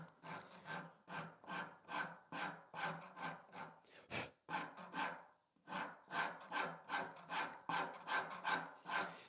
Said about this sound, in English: I'll use the flat side of this rasp.